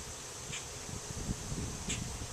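A steady, close drone of many honey bees buzzing on a hive frame, with a continuous hum and no voices.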